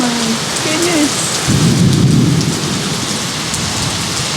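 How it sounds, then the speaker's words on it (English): A heavy thunderstorm with steady loud rain pouring down and a deep rolling rumble of thunder swelling midway, close and continuous with no voices. "You hear the thunder and lightning?"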